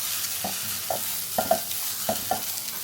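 Okra (vendakkai) roasting in a pan, with a soft continuous sizzle under a few light scrapes and taps of stirring, close and fairly quiet.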